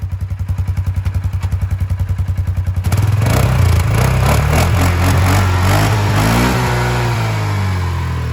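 A Polaris Sportsman ATV engine idles with a steady chugging rhythm, then revs up loudly and holds a high, roaring pitch close by.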